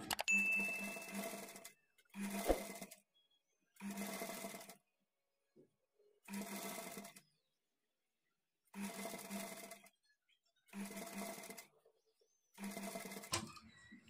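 A sewing machine stitching the neck edge of a blouse whirs in seven short, evenly spaced runs with brief silences between them, heard up close with no speech.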